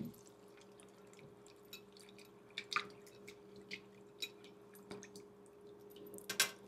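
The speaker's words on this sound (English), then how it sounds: "Rinse lang natin and then remove like that." Boiled mung beans rinsed in water, with faint drips, small splashes and wet squishy handling over a steady low hum, a sharper splash near the end.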